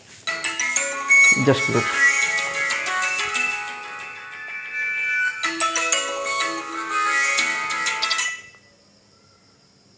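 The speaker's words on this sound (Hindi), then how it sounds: "एक्चुअली फ़ोन आ गया था है ना" An incoming call makes a mobile phone play a loud, melodic ringtone that runs for about eight seconds with a brief break, then cuts off abruptly. Someone speaks briefly over it during a math lesson.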